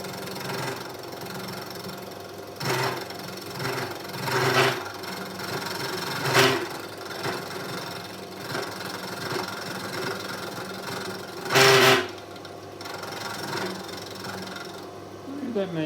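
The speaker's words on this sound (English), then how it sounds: "safety first would mean that I turn the drill press off before I squirt the oil in there" A drill press in a home workshop, used as a DIY milling machine, runs with a steady mechanical whir and hum, and louder scraping bursts break in at intervals. A voice is faintly present.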